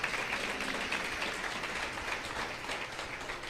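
A church congregation applauding during a sermon, a steady wash of many hands clapping, moderately distant and even in level throughout.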